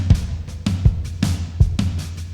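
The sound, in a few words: snare drum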